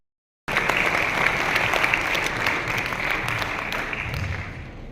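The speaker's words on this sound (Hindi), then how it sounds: "एक बार जोरदार तालियों के साथ आप मेरा सहयोग करें।" An audience at a Hindi poetry gathering and book launch bursts into loud, sustained applause, many hands clapping together for several seconds and slowly easing off.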